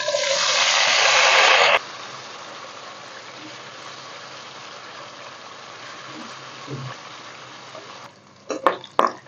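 Potato pieces fry in a pan with a little salt and turmeric, a loud sizzle for the first two seconds settling into a steady low frying hiss, with a few sharp clatters near the end.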